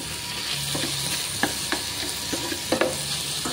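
Aromatics sautéing in a pan as the base for sinigang sa miso with tanigue fish, giving a continuous close sizzle broken by sharp scraping clacks of a spatula stirring every second or so.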